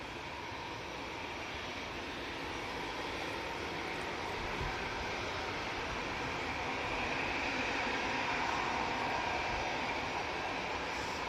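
An Airbus A340 at Manchester Airport gives a steady, unbroken jet roar that swells slightly toward the end, broadband and fairly distant, with no voices.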